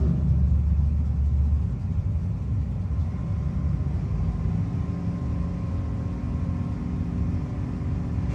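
Drag racing cars, including a Chevelle, launch down the strip at a no-box 660 shootout, a steady, heavy engine rumble roaring continuously at a distance.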